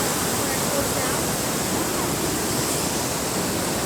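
Waterfall at The Basin in New Hampshire, a steady, broad rush of falling water that stays constant and fairly close, with no talking over it.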